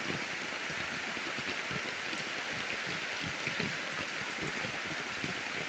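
Steady heavy rainfall over farmland in a storm, a constant near hiss with a thick patter of drops throughout.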